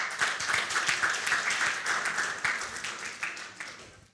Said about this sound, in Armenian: Եղբայրներ, մի հատ արժի ծափ տալը